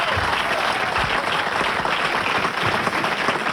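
Concert audience applauding at a live 1994 show, a thick, continuous roar of clapping from a large crowd, loud and even throughout.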